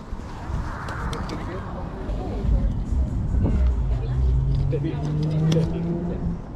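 A UPS delivery truck speeds past on a residential street beside a garage sale, its engine and tire noise swelling to a loud peak and then fading, with people talking nearby the whole time.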